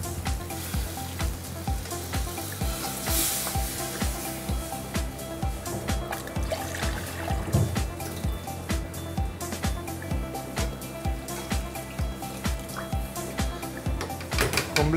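Water poured into a pan of sizzling tomato paste gives a steady frying hiss with soft bubbling, close and fairly loud, over a rhythmic background clatter, with no talking.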